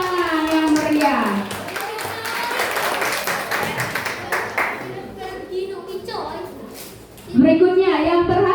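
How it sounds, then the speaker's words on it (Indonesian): Clapping from the audience at a primary school graduation ceremony, mixed with children's voices and a speaker talking over it, ending with a louder voice. "Berikan tepuk tangan yang meriah."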